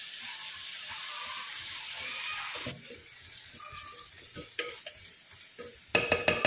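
Shallots, ginger, green chili and curry leaves fry in a black clay pot, a steady close sizzle with stirring scrapes that eases midway, followed by sharper clatters near the end.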